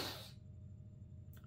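One sharp, close human sneeze bursts out at the start and cuts off quickly, followed by near silence and a faint breath at the end.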